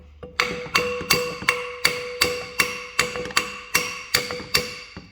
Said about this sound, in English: so out comes the hammer.